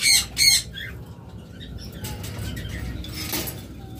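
A green opaline breeding pair of pet birds lets out two sharp squawks close by, followed by softer scattered chirps and rustling.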